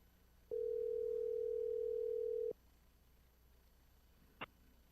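A single steady ringback tone from an outgoing telephone call sounds for about two seconds, then cuts to near silence with a brief faint click afterward.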